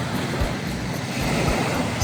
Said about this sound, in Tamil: இந்த அலைகளோட சத்தம் இது கடல் தண்ணி தான், உப்பு தண்ணி.